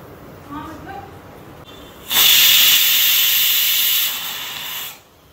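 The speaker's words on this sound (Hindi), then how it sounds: "3 सीटी आते ही गैस को बंद कर दो।" A pressure cooker vents steam while daal cooks on a gas stove, giving a loud, steady hiss that runs for about three seconds before cutting off, with faint kitchen background before it.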